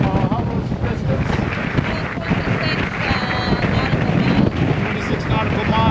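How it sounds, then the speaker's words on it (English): Brisk wind roars across a sailing catamaran heading between Greek Cyclades islands, a loud, constant buffeting rush battering the microphone, with water and hull noise mixed underneath. "we got a very brisk wind"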